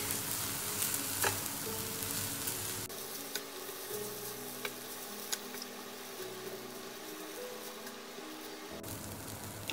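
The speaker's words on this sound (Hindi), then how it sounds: "सबको मिक्स कर लेंगे।" Spiced raw mango rice is stirred in a hot pan, giving a constant close sizzle with soft scraping and a few light clicks of the spoon, no voices.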